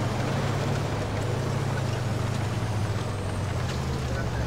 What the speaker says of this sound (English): That tank is fast! Yeah man, turbine engine.